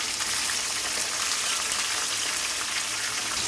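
Chicken frying in oil with onions and green chillies, a steady close hissing sizzle with crackling spatter, continuous and even with no talking.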